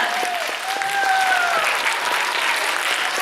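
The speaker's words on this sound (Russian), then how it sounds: "Похлопаем ему, ребята!" A room full of children applauds at a birthday party for Grandfather Frost, a continuous dense patter of clapping with a sung or spoken voice gliding over the top early on.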